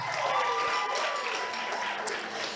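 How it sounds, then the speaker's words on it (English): Audience applause at an outdoor jazz festival stage, a steady wash of many hands clapping across the whole stretch, moderately loud with faint crowd murmur. "Let us give a round of applause to Radio 2000."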